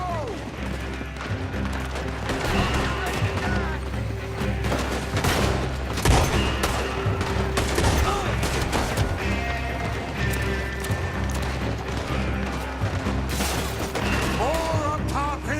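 Rapid gunfire in a Red Dead Redemption gunfight, dense overlapping shots and cracks over galloping hooves and game music, with character voices shouting now and then amid the continuous chaotic action.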